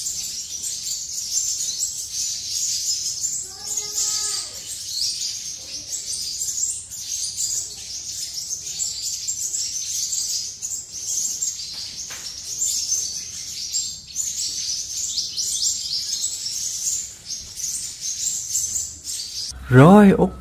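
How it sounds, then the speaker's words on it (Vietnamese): High, busy sunbird chirping runs continuously over faint background sounds, with a brief separate call partway through and a louder burst near the end. "đầu tiên là sẽ là chim hút mật 7 màu chuyền nha mọi người"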